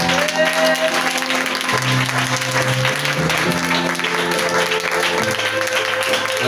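A church congregation applauds and cheers for Jesus, loud continuous clapping and shouting mixed with sustained keyboard or organ chords throughout.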